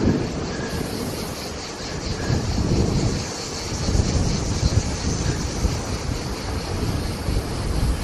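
Strong, gusty wind out in the open Rhone Delta in France buffets the microphone with a loud, continuous rumble that swells and eases, with no voices over it.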